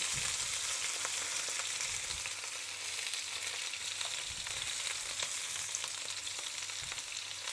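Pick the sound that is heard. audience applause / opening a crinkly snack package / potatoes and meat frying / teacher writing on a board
potatoes and meat frying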